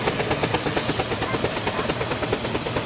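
Continuous loud hiss of steam from a steam engine at a steam fair, with a rapid rhythmic chuffing pulse running under it throughout.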